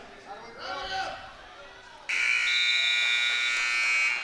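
A loud, sustained electronic buzzer ends a wrestling period at a high school triangular meet. It cuts in sharply and holds steady for about two seconds after a commentator's voice and gym murmur.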